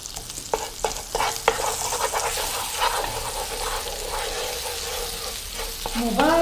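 Garlic sizzles and fries in a pan while a utensil stirs it, with scraping strokes over a steady, close, hissing crackle that grows slightly louder toward the end.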